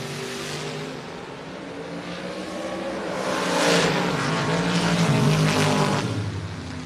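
A Camaro and a Dart drag race cars launching at a drag strip, a rising roar of engines building and swelling to a peak before easing slightly, heard from a moderate distance.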